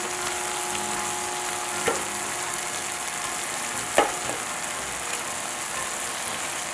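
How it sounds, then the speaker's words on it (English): Crushed garlic sizzles in a pan while making butternut squash risotto: a soft, steady frying hiss with a couple of sharp clicks from stirring, no talking. "now we're going to add in our crushed garlic. We're just going to allow it to cook in here."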